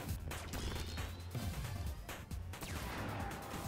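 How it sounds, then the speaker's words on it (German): Charged shot in the video game Super Time Force Ultra, firing through walls, heard as dense, continuous gunfire-like blasts and crashes with layered game effects throughout. "Der aufgeladene Schuss kann Wände durchschlagen."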